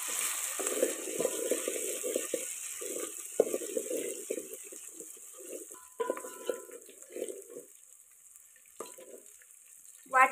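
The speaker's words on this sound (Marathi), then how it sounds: "वाटण छान मस्त तळलेले" Ground masala paste of garlic, coriander and ginger fries in mutton fat over a wood-fired village stove, giving a soft, steady sizzle with patchy crackles and a few louder pops near the end.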